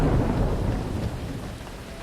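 Heavy rain pours steadily, a dense rushing hiss with a low rumble underneath, loud and continuous.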